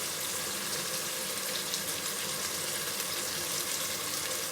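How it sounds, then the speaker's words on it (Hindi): Onions, garlic, ginger and chillies fry in oil over medium heat for an aloo methi sabzi, giving a steady, dense hiss and crackle that stays even and fairly close throughout, with no talking. "मीडियम सी आंच पे इसको मैं लाइट गोल्डन फ्राई कर लेती हूँ"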